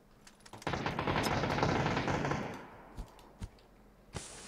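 Automatic gunfire in the video game PUBG: a loud sustained burst of rapid shots for about two seconds, then a few single distant shots.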